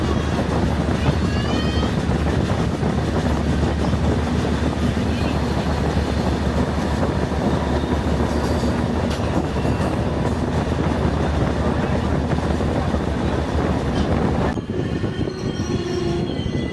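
The Brindavan Express passenger train runs at speed, a loud continuous rumble of wheels on rails with occasional squeals, heard steadily throughout before a brief change near the end.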